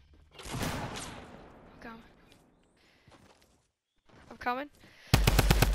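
Rapid video game gunfire bursts in at the end, loud and dense, after stretches of talk between players.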